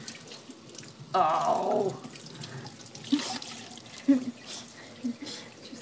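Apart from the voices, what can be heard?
tap water rinsing raspberries at kitchen sink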